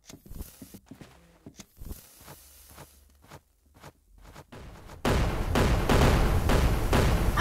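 Gunfire from the video game Arsenal: scattered sharp shots and clicks at first, then a sudden loud stretch of dense, rapid firing that continues to the end.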